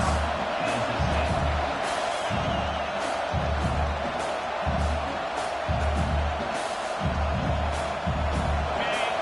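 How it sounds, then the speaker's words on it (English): A football stadium crowd roars continuously through a tense second-down defensive stand, with a thick, sustained wall of noise, rhythmic low thumping and scattered louder bursts of cheering throughout. "This crowd even louder now on second down as they try to hold on."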